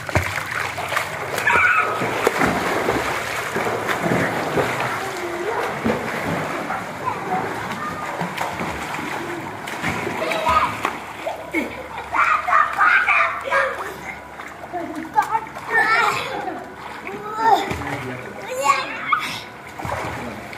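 Children splash and swim in a swimming pool, with steady water sloshing and bursts of splattering through the whole stretch while kids' voices and an adult's voice call out over the water.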